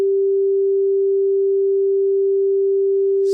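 A lo-fi sine wave oscillator built in Pure Data Vanilla, meant to sound bad, holds one steady pure tone alone for several seconds, with a faint hiss of noise creeping in near the end.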